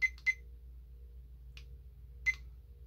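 Short electronic beeps from a kitchen-style timer being set, a few quick chirps near the start and another at the end over a low steady hum, with no talking.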